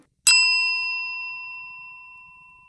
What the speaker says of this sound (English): Catalina will tap the bell at the counter